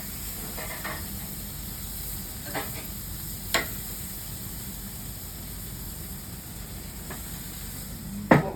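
Vegetables sizzle on a Weber Family Q gas grill, a steady hissing bed of moderate loudness broken by a few sharp clicks and clatters as pieces are moved and flipped.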